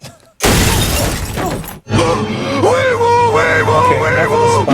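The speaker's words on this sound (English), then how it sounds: "Suddenly, his windshield is smashed by someone unseen." A car windshield smashed by an unseen attacker in a horror movie bursts into a loud, sustained crash of shattering glass, followed after a brief gap by loud yelling and groaning voices over a low rumble.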